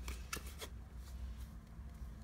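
Pokémon trading cards flipped and handled up close, a few quick papery snaps and riffles over a soft steady background hum.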